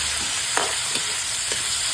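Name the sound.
onion, garlic and tomato sautéing in a pan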